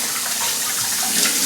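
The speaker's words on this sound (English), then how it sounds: "I'm just going washing the hog down real quick, make sure it's good and clean." Running water rinses down a processed wild hog carcass in a brief, loud, continuous close gush, with no voices.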